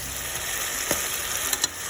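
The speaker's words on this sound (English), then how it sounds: "I'll use the same pressure cooker to fry the meat in as well as to pressure it" Mutton sizzling and frying steadily in hot oil in a pressure cooker, with a few faint scrapes of stirring near the end.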